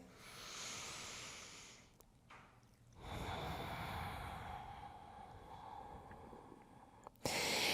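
Steady breathing during a gentle morning stretching routine for joint stiffness: soft, airy inhales and exhales that swell and fade over several seconds, close and moderately quiet, with no talking.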